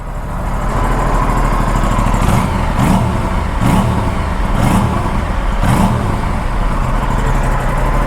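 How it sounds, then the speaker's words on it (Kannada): An Aprilia RS457 sport motorcycle revs up loudly close by, its exhaust note rising and falling in several sharp throttle blips over a steady engine drone, with no voices. "exhaust note ಕೇಳೋಂಬರ್ರಿ"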